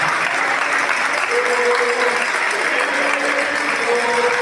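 Steady applause from a crowd for a jury at a Catalan gitanes contest, continuous clapping at an even level throughout with no pauses.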